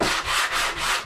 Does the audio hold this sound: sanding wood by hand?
yes